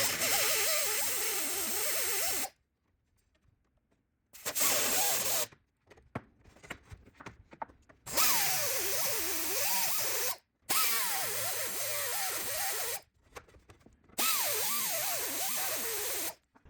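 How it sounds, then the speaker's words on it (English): Power tool bursts trimming the ends of aluminum stringers on a RANS S-21 airplane tailcone, several loud sustained runs of about two seconds each, separated by quiet gaps and softer handling noises. "I'm gonna trim the very ends of those stringers by about 3/32 of an inch or so"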